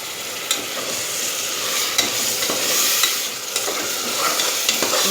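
Mint and tomato paste fry in hot oil in a pan while being stirred, a steady close sizzle broken by regular scrapes and clinks of the spoon, with no talking.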